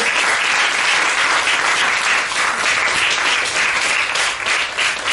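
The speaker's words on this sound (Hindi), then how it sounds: "सभी जोरदार तालियां एक बार दिल खोल के" A seminar-hall audience of teachers and students breaks into loud, sustained applause, a dense, even wash of many hands clapping that holds steady throughout with no talk over it.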